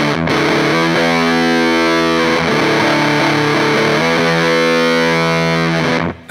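An electric guitar on its humbucker pickup plays through a JHS Bender fuzz pedal with the attack rolled back, loud thick fuzzy sustained chords ringing near and alone, one change of chord midway before the sound drops away.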